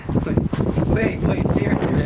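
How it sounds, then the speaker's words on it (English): Cold wind buffets an outdoor microphone in loud, rough gusts with low rumbling bursts, while people talk over it throughout. "Man, it's so cold and windy."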